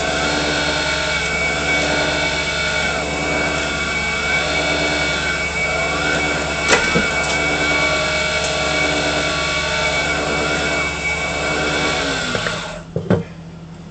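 A wood lathe spins a cast acrylic pen blank while a carbide tool cuts it, giving a loud, steady whirring drone with a sharp scrape midway, before the motor winds down near the end.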